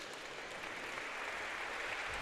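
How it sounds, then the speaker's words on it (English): A crowd at a speed climbing championship final gives sustained, even applause for two athletes, a dense wash of many hands held at a steady level throughout, with no voices standing out. "Big round of applause coming from the crowd for both the athletes there."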